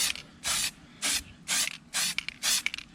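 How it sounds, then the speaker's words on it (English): Five short, loud bursts of aerosol spray paint hiss onto an RC car body, each about a quarter second, evenly spaced with brief quiet gaps between them, close to the listener. "I'm kind of spraying away from the other side so I don't get too much of that red overspray"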